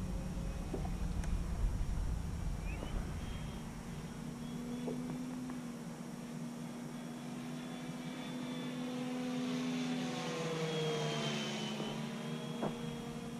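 A radio-controlled Warhawk model airplane flies overhead, its small engine a steady droning whine that rises and falls in pitch as it passes, fairly distant and continuous with no talking.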